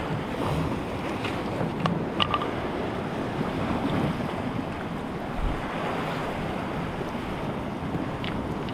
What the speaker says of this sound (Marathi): आता समुद्राची भरती सुरूच झाली